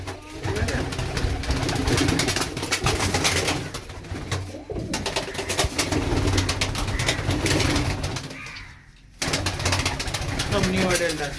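Teddy pigeons and other adult pigeons coo repeatedly at close range, low soft calls overlapping in an ongoing chorus, while a voice talks over them and a brief lull falls near the end.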